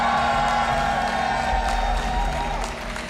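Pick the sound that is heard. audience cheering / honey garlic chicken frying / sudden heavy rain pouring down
audience cheering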